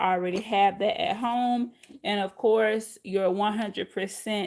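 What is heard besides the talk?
No everyday noises stand out.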